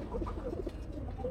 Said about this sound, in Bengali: জাস্ট কবুতরগুলো একটু করে দেখাই।